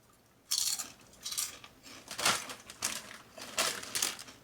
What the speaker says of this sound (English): But just listen to the crunch.